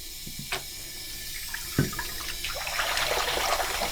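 Tap water runs into a basin to soak a knitted hat for washing, a steady splashing stream nearby with a few knocks and clatters and the flow growing fuller toward the end.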